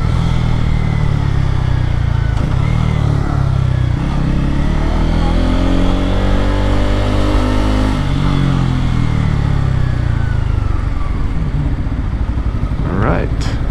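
A Kawasaki Pulsar N250 250cc motorcycle being ridden, its engine droning steadily and loud up close with rising and falling revs as it shifts through gears, plus wind rush.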